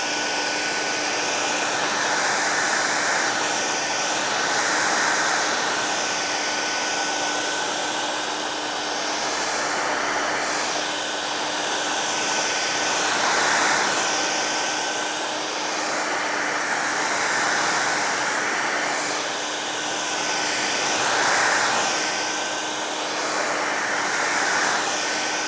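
A heat gun blows with a steady, loud whooshing roar close by, its airflow swelling and fading slightly as it heats the glue around a Google Nest Hub screen.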